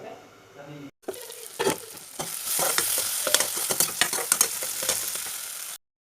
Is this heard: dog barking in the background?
no